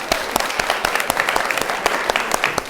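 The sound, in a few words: audience applause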